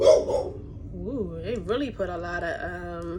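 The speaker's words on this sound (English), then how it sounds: "Excuse my dog." A dog barks and yips in a home during a skin care routine, several short pitched yelps in quick succession while someone talks over them.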